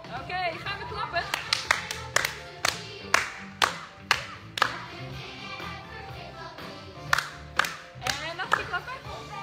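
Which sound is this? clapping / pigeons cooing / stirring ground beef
clapping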